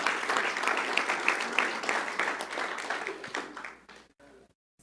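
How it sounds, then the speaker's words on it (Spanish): A church congregation claps together in a hall, with distinct hand claps over a steady background. The clapping fades to quiet near the end. "Así que denle un aplauso a Dios"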